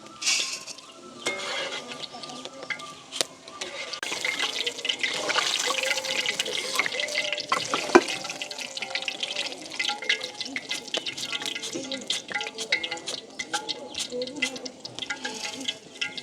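Boondi fries in hot oil in a village home kitchen, giving a continuous soft crackle and bubbling with occasional clinks of a utensil, while a voice talks now and then.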